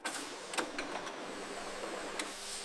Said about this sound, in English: The cap is securely sealed onto the bottle threads by a high-torque rotary spindle.